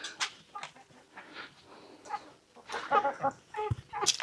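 Hens and roosters in a village flock of eleven clucking at early-morning feeding time, a string of short, bright calls scattered through the clip, some close and louder toward the end.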